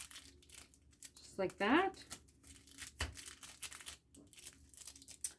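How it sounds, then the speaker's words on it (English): Clear transparent tape being folded down on scrap cardstock for a keychain gives a brief close crinkling rustle, with a person talking softly around it. "clear, transparent tape. This will work. So I'm just going to fold this down"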